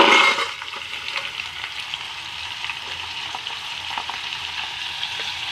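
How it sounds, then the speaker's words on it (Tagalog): Spices and aromatics sizzle in hot oil before seafood goes into the pan, a bright steady frying crackle with an initial louder burst, with faint stirring taps and no talking. "Haluin lang natin ang bahagya mga lods hanggang sa medyo mag-brown yung mga pampalasa at pang-aroma"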